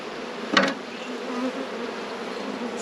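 A swarm of honeybees makes a dense, continuous buzzing drone. One sharp knock lands early on, and the hum stays fairly close throughout.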